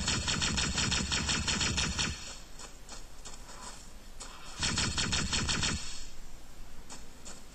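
A purple homing alien gun fires in the Halo demo with fast, rattling bursts of rapid shots. Two long volleys at the start and middle sit among shorter spurts, loud and near, with no talk over them.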